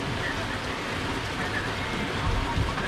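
Heavy rain falls steadily outdoors during a fishing trip, a constant dense hiss of drops with no pauses, moderately loud and close.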